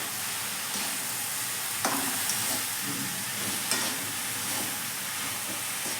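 Vegetable curry cooking in a pan at home, with a steady close sizzle and occasional stirring clinks over a continuous hiss, no voices.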